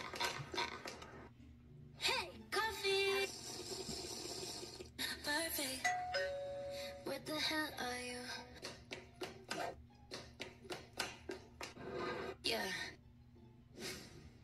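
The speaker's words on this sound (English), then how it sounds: "Ding dong!" A doorbell chime rings amid a busy, cluttered mix, with people talking and reacting around it in an indoor scene.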